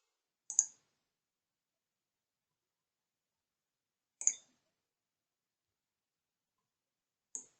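Three sharp, isolated mouse clicks spaced several seconds apart in near silence, crisp and close, with nothing else audible between them.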